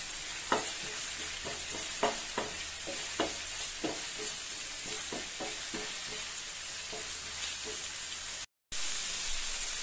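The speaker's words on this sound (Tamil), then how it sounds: "இஞ்சி பூண்டு விழுதோட ரா ஃபிளேவர் போற வரைக்கும் நல்லா சாட்டே பண்ணிக்கோங்க." Ginger garlic paste sautés in a hot pan with a steady broadband sizzle, punctuated by repeated scraping strokes of a stirring spoon in an irregular rhythm, close and moderately loud, broken by one brief dropout near the end.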